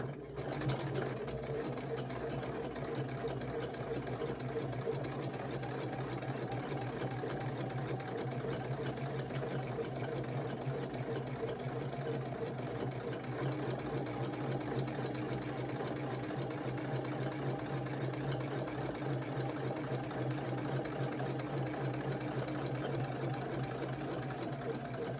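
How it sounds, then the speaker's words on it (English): A sewing machine runs continuously while stitching a quilt block, a close, steady rapid mechanical whir and needle clatter holding an even pace for the whole stretch. "Needle down. And we'll go ahead and sew."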